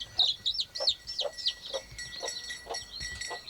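A hen clucks and chirps in a rapid, fluttering series of calls that gradually soften and slow, heard close up without any talking.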